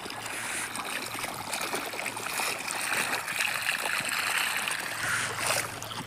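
Water driven by a motor pump gushes out at a house construction site, a continuous rushing, splashing flow that swells a little midway, with a low motor hum underneath.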